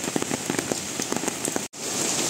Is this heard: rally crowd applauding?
no